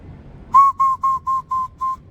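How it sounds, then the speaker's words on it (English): A loud, clear fingerless whistle shaped with the tongue, six sharp piercing bursts in a quick even rhythm, close and alone with nothing else around it. "Like that's a really clear sound, like almost like a coach's whistle."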